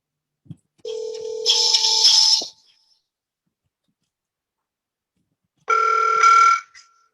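A telephone rings twice in long electronic bursts separated by silence, each ring close and clear, on a call that goes unanswered.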